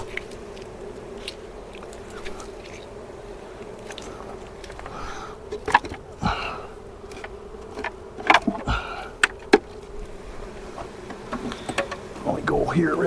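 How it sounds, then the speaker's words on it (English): Honey bees buzzing around an opened beehive being inspected and smoked, a steady close hum with sharper passes of individual bees and occasional handling knocks of the hive frames. "still a shit ton of bees in here"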